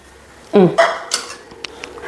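A metal spoon clinks and scrapes against a non-stick pan a few times, with short knocks and a brief vocal sound near the start.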